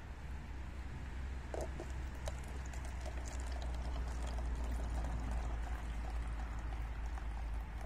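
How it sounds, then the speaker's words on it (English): Milk poured steadily for several seconds as a continuous soft liquid rush, close and even, with faint clinks and no talking. "And as you can see, I'm pouring milk."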